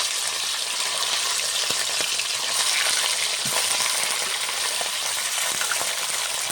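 Chicken pieces fry in hot oil in a pan for a chicken biryani, with a continuous dense sizzle and hiss close by, steady in level, with faint stirring knocks now and then.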